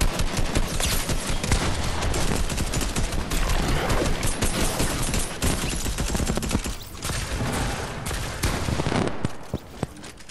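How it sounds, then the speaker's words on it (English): Dense, continuous gunfire in the video game Fortnite, with rapid overlapping shots filling the scene at high intensity, easing slightly toward the end. "Someone else is shooting at us?"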